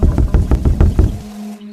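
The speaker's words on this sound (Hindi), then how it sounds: "उसके दरवाजे पर 3 धीमी दस्तकें हुईं" Three soft knocks on a door in a quiet room, a cluster of short muffled taps that stops, leaving a faint steady hum.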